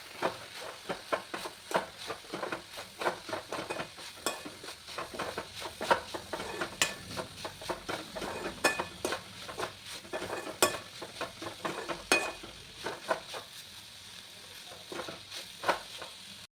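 Matki moth bean curry is stirred in a pan, with quiet rhythmic scrapes and taps of a spoon over a faint, steady sizzle.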